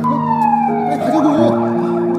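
A fake police siren wails loudly and close, its sweeping electronic tone falling in pitch and then shifting into a faster warbling pattern.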